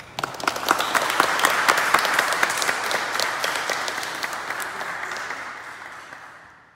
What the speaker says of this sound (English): through your applause